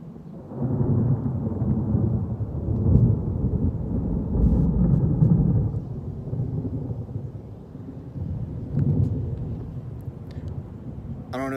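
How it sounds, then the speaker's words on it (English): Deep, rolling thunder rumbles for several long swells across a forested area, loud and close with low booming surges, with faint speech at times beneath it. "There's a tremendous peal of thunder"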